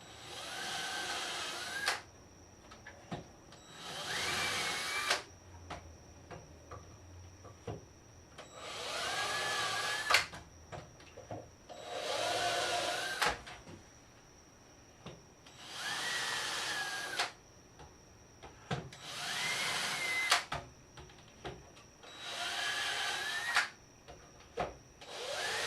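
A power drill bores pilot holes into a wooden face frame for a buffet with hutch, five or six separate bursts of a few seconds each, whirring up and down with quiet pauses between them.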